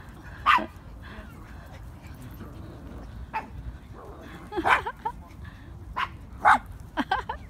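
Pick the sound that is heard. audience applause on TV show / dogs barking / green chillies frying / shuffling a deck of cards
dogs barking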